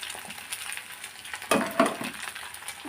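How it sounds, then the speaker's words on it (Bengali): Beaten eggs poured over onions fry in a pan for an omelette, a faint, steady sizzle with a few sharper clinks and scrapes rising midway. "তারপরে আমি ডিমগুলো এইভাবে ছেড়ে দিচ্ছি প্রত্যেকটা ডিমে যাবে পোস্ট টাইপের একটি অমলেট করে নিচ্ছি"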